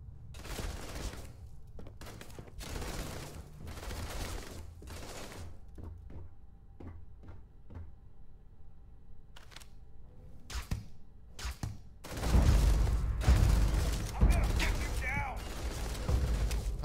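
Gunfire in Starfield comes as bursts of shots, dense volleys at the start and a heavy sustained fusillade near the end, with separate clicks and mechanical sounds between them and a voice talking at times.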